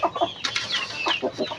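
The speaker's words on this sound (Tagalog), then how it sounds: "may bagong ano, yan, bagong rooster yan" Chickens cluck close by alongside a new rooster, a short run of clucks and squawky calls on a farm.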